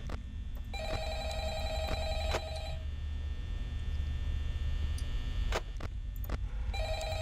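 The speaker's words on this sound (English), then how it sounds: "Answer the phone!" A telephone in Five Nights at Freddy's 2 rings in repeated electronic trills, each burst separated by pauses, over a low constant hum in a quiet room, with a few sharp clicks in between.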